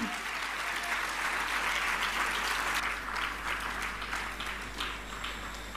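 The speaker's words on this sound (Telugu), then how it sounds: "గట్టిగా చప్పట్లు కొట్టి దేవుని స్తుతిద్దాం" A church congregation claps loudly in praise, a dense, sustained wash of applause from many hands that fills the room at an even level from start to finish and fades slightly at the end.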